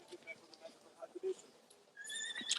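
In the animated series Star vs the Forces of Evil, a horse's soft hoof clops sound sporadically, then a brief, high whinny closes the moment.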